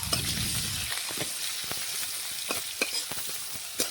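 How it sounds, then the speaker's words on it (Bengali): Chopped onions sizzle steadily in hot oil with panch phoron and whole cumin, with intermittent scraping strokes of a spatula stirring the pan, close and continuous with no talk. "পেঁয়াজটা একটু নাড়াচাড়া করে ভেজে নেব।"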